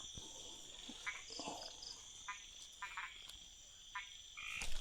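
Frogs croak at night in a rainy forest, repeating short rasping calls at intervals, near and fairly clear over a steady high insect drone, with no voices.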